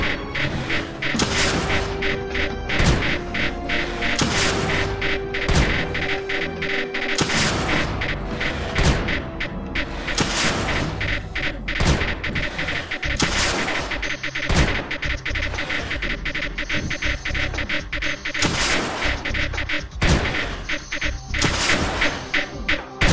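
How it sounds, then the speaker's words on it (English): Launchers firing in the strategy video game Creeper World 2, a steady stream of thumping, artillery-like shots in quick irregular succession over continuous mechanical game noise. "Launcher's lowering the density of it down here."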